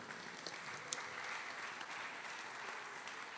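Audience clapping for a female singer at a devotional gathering in Auckland, New Zealand, a steady, fairly quiet patter of many hands continuing evenly throughout with no voices.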